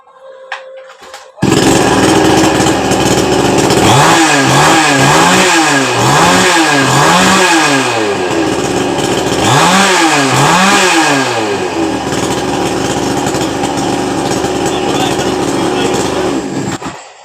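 A tree-cutting chainsaw engine catches after a short startup and runs loud and close, revving in repeated rising bursts before settling into a steady high drone with no talk over it.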